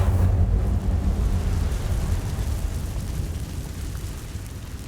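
The Incendio fire spell in Hogwarts Legacy bursts out as a loud, deep rumbling whoosh of flame. It is strongest at the start and fades into a low roar over several seconds.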